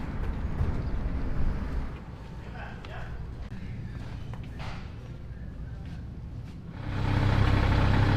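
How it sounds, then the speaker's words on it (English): A diesel engine idles steadily to warm up before an oil change, a low continuous rumble that swells louder near the end, with a voice speaking over it. "Got the engine running here this morning."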